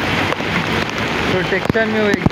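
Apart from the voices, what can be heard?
heavy rain in Mumbai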